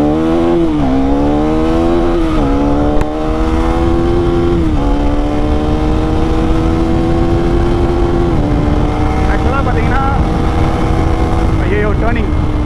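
A KTM Duke 390 Gen 3 motorcycle engine drones loud and close, holding a steady note that rises and dips as the rider shifts and changes speed. Wind noise runs underneath.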